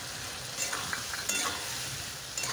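Spice masala with turmeric and slit green chilies frying in oil for a potato and pointed gourd dish, a steady low sizzle punctuated by a few light spatula scrapes and taps, nearby and without speech.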